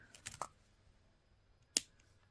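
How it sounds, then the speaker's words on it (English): Scissors cutting a ribbon for a bookmark make a couple of quick, faint snips close by, then a short pause and one sharper, louder snip, in an otherwise quiet room. "So we can cut this about right here,"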